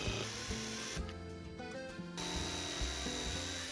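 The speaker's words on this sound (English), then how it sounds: "The resin block was a bit of a weird shape, so at first cutting it was a little hard" Power-tool cutting of an odd-shaped resin block, a harsh buzzing rasp that runs for about a second in the middle over a steady workshop hum.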